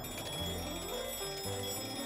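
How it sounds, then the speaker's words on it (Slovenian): An old telephone rings after a manual exchange operator cranks the switchboard's magneto to call it, a continuous metallic bell ring filling about two seconds at steady loudness, with no talk. "zazvonil je tale telefon, številka 20"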